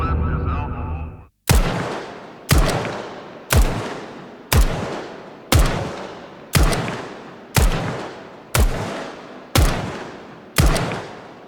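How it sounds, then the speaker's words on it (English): Ten single gunshots from game audio, each with an outdoor reverb tail, fire at an even pace about one second apart. Each is a loud, sharp crack that rolls off into a long fading echo. A brief voice comes just before the first shot. "You have just heard 10 single shots, each with an outdoor tail"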